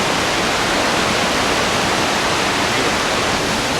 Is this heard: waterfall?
yes